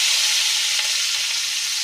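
Onions sizzling in hot oil for homemade veg chowmein, a steady close, bright frying hiss with no break and no talk.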